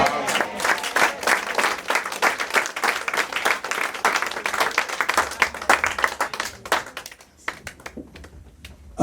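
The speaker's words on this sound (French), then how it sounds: "Applaudissons, applaudissons pour Jésus." A church congregation applauds during worship, with loud, brisk, dense clapping that carries on for several seconds before thinning out and fading toward the end.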